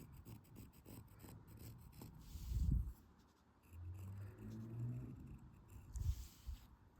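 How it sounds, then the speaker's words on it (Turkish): A pen drawing a marking line on fabric lining for a handmade granny square clutch bag, a continuous scratchy rubbing with a few firmer strokes, close and fairly quiet. "Bakın şu altını da yine çiziyorum."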